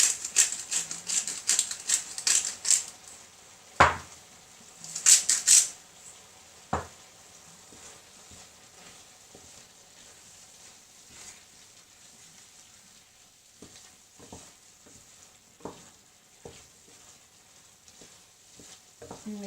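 Beef cobbler filling is stirred and seasoned in a pan, with a bright sizzle and clustered scraping bursts early on, then a quieter simmer broken by occasional spoon taps and clicks, close and without talk.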